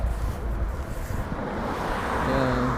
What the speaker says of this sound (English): Then also got super windy